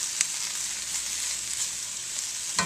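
Potatoes for home fries fry in oil in a pan with salt, giving a steady bright sizzle with a few sharp clicks of stirring near the end, no voices.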